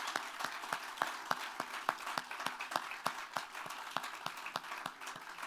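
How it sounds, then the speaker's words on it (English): Applause for Oakland Cemetery sexton Sam Reed at an outdoor visitor center groundbreaking, a modest crowd's sparse, distinct claps in an uneven rhythm, fairly faint and distant. "Let's give him a round of applause for the amazing work that he does."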